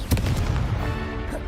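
The Confringo spell goes off in Hogwarts Legacy as a sudden booming blast, a dense explosive burst up close that rumbles and fades over about a second.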